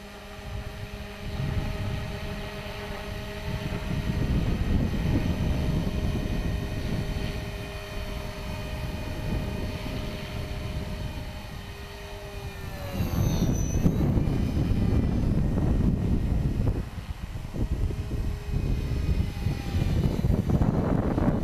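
HK450 Pro RC helicopter flying on a windy day, a steady whining rotor and motor drone that shifts in pitch as it banks and climbs into the wind, with gusting wind noise, alone with no talk.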